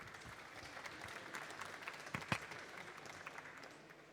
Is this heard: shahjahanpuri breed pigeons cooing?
no